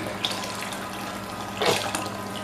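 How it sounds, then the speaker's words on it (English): Water running from a kitchen tap into a cooking pot of beef broth, a steady broadband rush with a brief louder surge midway, close and alone without talk. "Add some water to it."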